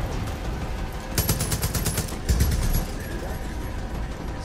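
Rapid gunfire in the video game Far Cry 5, a burst of automatic shots running through the middle of the clip over steady game noise, with a second short volley just after and a few scattered shots around it.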